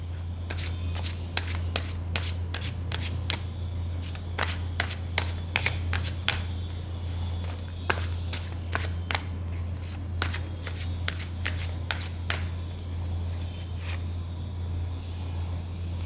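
Tarot cards being shuffled: repeated crisp riffling snaps in irregular bursts over a steady low hum, fairly close, with no talking.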